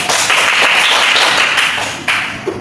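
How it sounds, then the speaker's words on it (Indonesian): An Indonesian class in a microteaching lesson claps for a student in a short, loud burst of many hands that runs for about two seconds, then fades out with a couple of stray claps at the end. "Beri tepuk tangan kepada Elvis."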